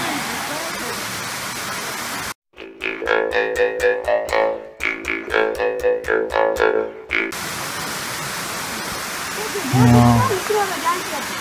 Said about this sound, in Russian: Что за прекрасный водопад.